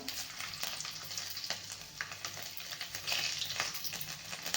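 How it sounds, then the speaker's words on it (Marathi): Mustard seeds and garlic fry in hot oil for a whole masoor usal, a quiet, steady sizzle peppered with rapid small pops and crackles that come in irregular bursts throughout, with no voice over it. "बघा इकडे तेल गरम झालेलं आहे आता टाकून घेणार आहे आपण मोहरी थोडीशी लसूण टाकायचं आहे आपल्याला"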